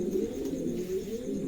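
A pair of Roman gal pigeons at a pigeon sale give a continuous, close, rolling coo, loud and unbroken, with no voices.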